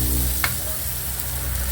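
Onion sautés in hot oil with a constant close sizzle and a low background hum, one quick scrape partway through, no talking.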